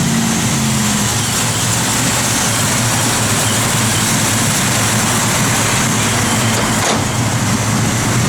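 Loud, continuous engine roar from a 1970 Plymouth Cuda held at high revs nearby, a steady heavy drone with a brief dip near the end and no voices.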